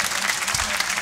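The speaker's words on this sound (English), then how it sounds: "Please make a huge round of applause for Poseidon" A crowd at a beatbox tag team battle semi-final claps and cheers, a brief, dense burst of applause filling the room.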